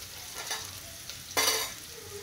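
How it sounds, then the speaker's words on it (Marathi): Garlic and onion fry in hot oil as a spoon stirs them, with a soft sizzle and a sharper scraping burst near the end. "लसूण आणि कांदा मी मिक्स करतो बघा"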